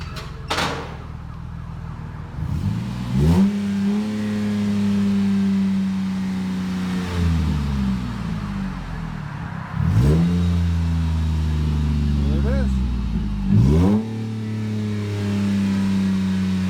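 A 2011 Jeep Liberty 3.7L V6 with a Magnaflow dual exhaust revs repeatedly, each loud blip sweeping up and settling back to a rumbling idle, about four times, close by with no talk.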